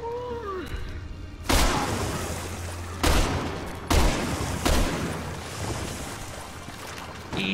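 Gunshots in Resident Evil 6 ring out as four or five sharp, loud blasts spaced a second or so apart over a busy rumbling game background.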